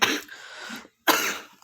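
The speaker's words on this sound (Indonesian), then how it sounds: "Agak batuk-batuk sedikit." Two harsh, close coughs from a lecturer in an indoor talk, a longer rasping burst followed by a brief pause and a second equally strong cough.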